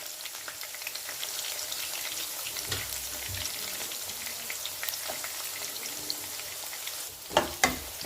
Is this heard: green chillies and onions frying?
yes